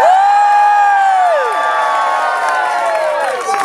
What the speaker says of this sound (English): I'm going to need a cheer